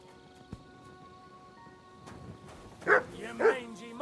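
A dog in Kingdom Come: Deliverance II gives two short barks near the end, following a quiet stretch of game ambience with faint background tones.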